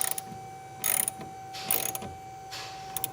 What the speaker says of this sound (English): we tightened it down a little bit with our 1/2-inch socket wrench